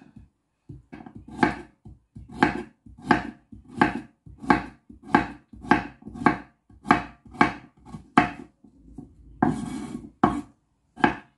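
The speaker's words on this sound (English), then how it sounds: "I'm gonna go ahead and cut our carrots" A knife chops scraped carrots on a board for a Jamaican-style vegetable soup, about a dozen crisp, evenly spaced strokes close up, with a brief scrape near the end.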